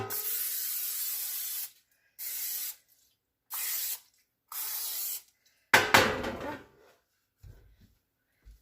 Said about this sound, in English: you want to butter that up. So I'm going to spray mine